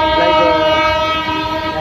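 A new electric train, seen near a bridge, passes close by, sounding a loud, sustained multi-tone horn over the rumble of its wagons for the whole short stretch.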